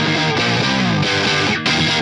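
Electric guitar power chords driven through an Iron Horse V3 distortion pedal, thick aggressive saturated tone with several chord changes and brief breaks between strummed hits, loud and up close.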